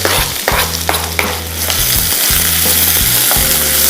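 Cumin seeds and finely chopped onions fry in a pan with a loud, steady sizzle, broken by rhythmic scraping and clatter from stirring throughout.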